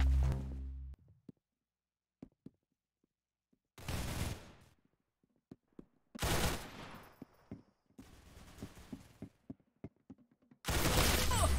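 Gunfire from the Roblox shooter game Arsenal comes in loud, dense bursts of several rapid shots each, separated by gaps of near silence and a few faint clicks.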